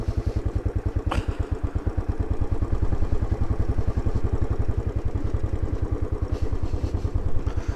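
A Royal Enfield 500 Trials motorcycle engine runs steadily and close by after pulling over, with a loud, even thumping pulse throughout and one brief sharp click near the start.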